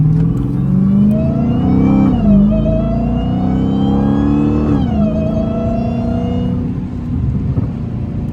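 A Dodge Hellcat engine revs and pulls hard under light throttle on a late-night drive, with a loud, continuous rising and falling engine tone through several gear-like sweeps, heard from inside the car.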